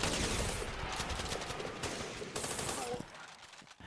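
An M1919 machine gun fires in the Running with Rifles game, rapid continuous bursts with percussive cracks that stop abruptly near the end, loud and close.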